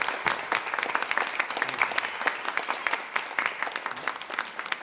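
An audience at a Provincetown writing event claps steadily for several seconds, a dense patter of many hands at moderate volume with no voices standing out.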